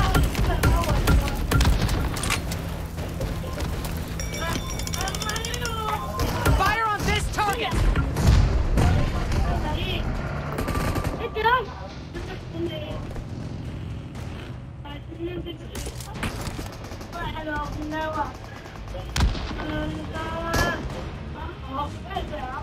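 Gunfire in PUBG Mobile gameplay, repeated sharp shots and bursts with booming impacts scattered across the stretch, under frequent radio-style game voice lines and player talk.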